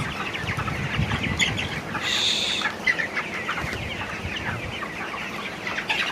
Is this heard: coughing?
no